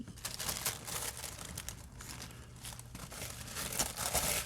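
Tissue paper is crumpled close up, a continuous run of crisp crinkles and rustles with a few sharper tearing bursts.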